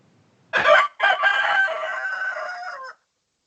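A cockerel crows nearby, loud and clear: a short opening note, a brief pause, then a long drawn-out call that fades off.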